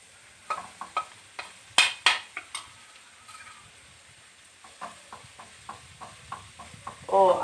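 Cooked rice is stir-fried for Malaysian kampung fried rice: spatula scrapes and clanks on the pan come in bursts over a soft sizzle, with a voice speaking partway through.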